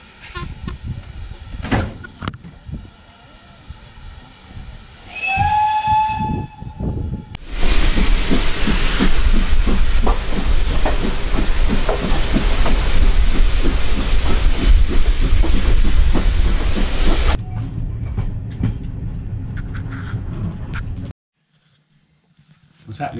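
A heritage steam train runs on the rails toward Shackerston, with a loud, steady rumbling hiss that dominates the middle stretch; people talk before and after it.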